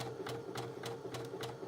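A domestic sewing machine back stitching a gathered seam, running steadily with a rhythmic whirring and regular needle pulses, close by and alone.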